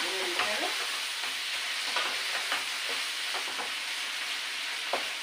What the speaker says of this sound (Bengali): এটাকে সুন্দর করে নাড়াচাড়া দিয়ে দিয়ে নিতে হবে।